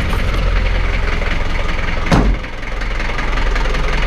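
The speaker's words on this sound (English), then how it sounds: "give you an idea of what it sounds like idling" A 1985 Daihatsu Rugger F75 4x4 with a turbo diesel engine idles with a steady, loud, low rumble, close by and alone, with a brief surge near the middle before settling back.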